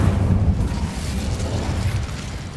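An Incendio fire spell cast in the video game Hogwarts Legacy, a loud, rumbling burst of flame that swells at once and then roars steadily before slowly easing off, with no voices.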